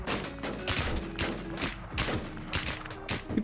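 Gunfire in the video game Warz comes as a rapid string of about eight sharp shots at a steady rhythm, loud and close, with no one talking.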